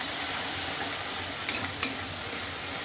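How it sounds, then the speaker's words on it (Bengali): Chicken sautéing in a paste of ground cashews, almonds, chili and garlic, giving a steady broadband sizzle with two sharp stirring scrapes close together in the middle. "খুব ভালো করে এটা কষতে হবে।"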